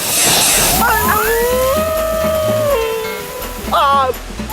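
Water gushing out of a large lorry and pouring down like a waterfall, a loud, continuous rushing hiss that runs through the whole moment beneath a voice and gliding tonal sounds.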